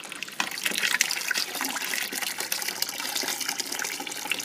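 Water draining from a batch of ground tomatoes during canning prep, a steady splashing, gushing pour with continuous trickling texture, close and fairly loud throughout.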